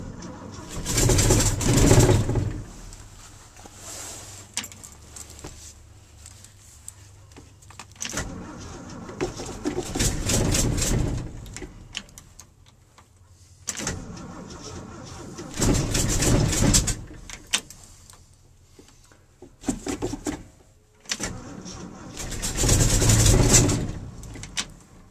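A 1974 Ford F250 engine with a carburetor that backfires flames tries to cold start, its starter and engine bursting in loud repeated cranking episodes separated by quiet gaps.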